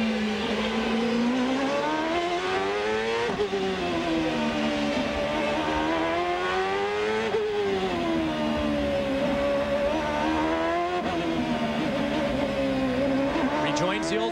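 A Honda race car on the 1999 Long Beach street circuit screams at over 15,000 RPM, then brakes hard and downshifts through a sequential gearbox to second, engine pitch sweeping up and down repeatedly while a commentator talks over it.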